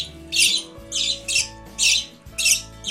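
Hungry budgerigar chicks squawk to be fed, five loud, shrill, rasping calls close by in an even, repeating rhythm.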